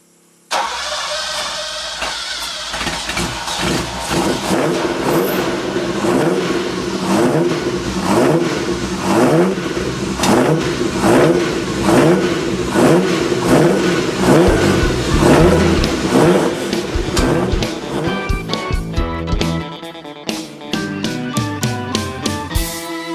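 A Ferrari 308 engine with freshly rebuilt carburettors cranks and fires, then runs loud and close with repeated throttle blips and revs rising and falling for over twenty seconds, settling into choppier bursts near the end.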